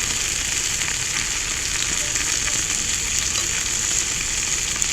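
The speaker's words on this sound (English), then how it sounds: "Onions are frying up pretty good." Onions sizzle steadily in a hot cast iron pan with grease, a constant crackling hiss with no voices.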